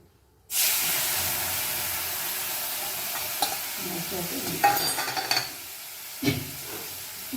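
Spice masala drops into hot oil with black cumin for a light katla fish curry with ridge gourd, potato and pointed gourd, bursting into a sudden loud sizzle that keeps hissing, with stirring scrapes.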